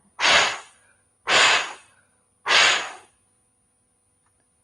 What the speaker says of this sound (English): Breathing in, big breath.